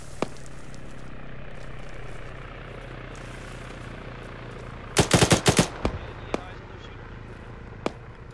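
Video game gunfire: a quick burst of several loud shots in rapid succession, then a few scattered single shots over a low ambient rumble, with players talking around it.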